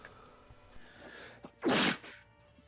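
A single loud sneeze bursts out after a few quiet breaths and soft room noise during a tabletop Witcher 5e game session.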